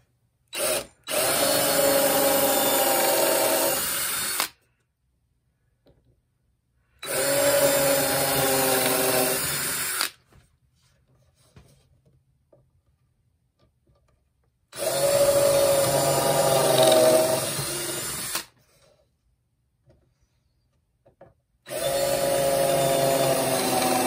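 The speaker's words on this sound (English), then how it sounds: "I gotta do is drive the screws and we're good to go" A power drill drives screws into wood in four separate bursts of several seconds each, whining loudly and close, with near silence between bursts.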